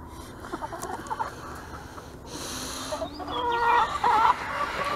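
Farm chickens clucking in short bursts with scattered squawks, growing louder and busier toward the end. No voices are heard.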